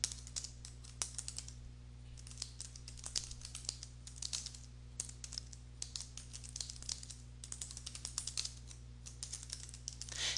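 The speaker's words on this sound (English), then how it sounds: "so I can just click here and start typing" Quiet, steady typing on a computer keyboard, with bursts of rapid key clicks separated by short pauses over a faint background hum.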